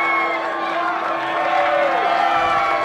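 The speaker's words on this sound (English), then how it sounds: "the crowd is going nuts as your winner is Bryan Castle." A wrestling crowd cheers loudly for the winner after the match, a steady roar of voices and whoops with a ringing tone running through it.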